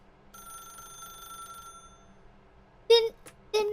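A telephone rings in the video game The Stanley Parable: a steady electronic ring with a bright tone, followed by a short burst of speech.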